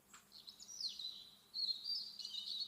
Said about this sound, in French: prendre conscience de la mélodie des oiseaux, leur chant qui apaise automatiquement le système nerveux